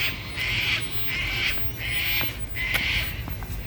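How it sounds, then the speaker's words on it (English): Birds in the Australian bush give loud, harsh, repeated squawking calls, four drawn-out bursts in a row over a low background rumble. "Beautiful trees, the birds, can you hear them?"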